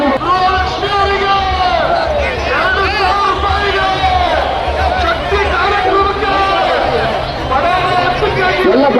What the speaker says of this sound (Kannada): ಎಲ್ಲರೂ ಜೈಕಾರ ಆತ್ಮದಲ್ಲಿ ಕೂಗ್ತಾ ಇದ್ದಾರೆ